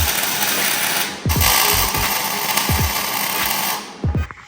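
Mounts on a vehicle are tack welded, producing a loud continuous crackling buzz broken by short gaps and thuds, with no speech.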